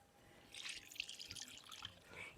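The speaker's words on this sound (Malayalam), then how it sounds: "ഈ വെള്ളം എനിക്ക് ചീരക്ക് ഒഴിച്ച് കൊടുക്കട്ടെ" Water poured from a container onto spinach plants in a garden bed, a soft, quiet trickle with scattered light drips and splashes, no voices.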